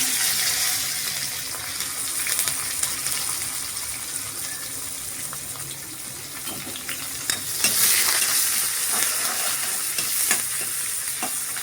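Cut garlic cloves frying in oil in a pan, a dense steady crackling sizzle with scattered stirring scrapes, swelling slightly louder near the end.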